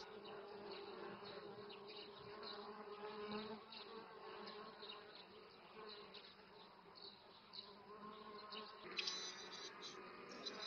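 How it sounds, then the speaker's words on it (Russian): Honeybees swarm and buzz steadily around a frame lifted out of a hive and set beside it, a dense, continuous drone of many insects close by with no talk. "Пчелы немного обескуражены."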